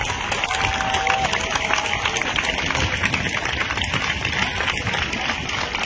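An audience at a community festival gives loud, sustained applause for a group of school children who performed a dance, the clapping steady and dense throughout with chatter mixed in.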